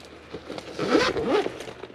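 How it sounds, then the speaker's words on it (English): Zipper being pulled shut on a fire-safe charging bag holding an eBike battery. It gives a few quick, rasping zips close up, the longest in the middle, with no talk over it. "We're going to zip it up."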